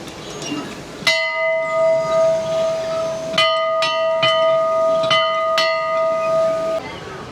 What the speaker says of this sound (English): You gotta ring the bell too?